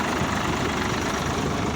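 A tractor engine runs steadily while sowing turmeric in a farm field, a constant low droning rumble with no breaks or voices.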